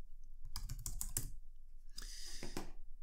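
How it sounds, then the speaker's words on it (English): Typing on a computer keyboard: two quick bursts of close, crisp key clicks separated by a short pause, with no talking. "so let's type that in."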